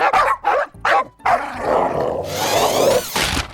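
Family dogs bark at a new RC car: a few sharp, close barks in quick succession, then a rising whir from the car's motor.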